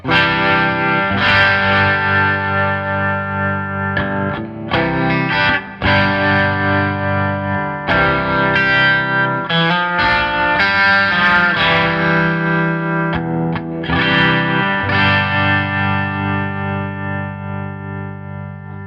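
Electric guitar through an MP Supreme harmonic tremolo pedal, chords and notes wavering steadily with a pulsing tremolo, loud and up close, no voices.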